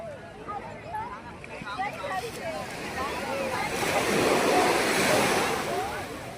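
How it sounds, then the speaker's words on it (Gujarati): Sea waves washing in and out at Chopati beach, a broad surging wash that builds and swells louder toward the end, with wind buffeting the microphone and bird-like chirps scattered over it. "પગમાં પાણી આવે પગમ કેટલું પાણી પાછું જતું રહે અને પાછું આવે"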